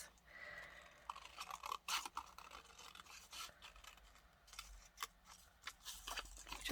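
Quiet, close scissors snipping around a paper butterfly for an art journal page, a series of small crisp cuts and papery rustles at an uneven pace with brief pauses between snips.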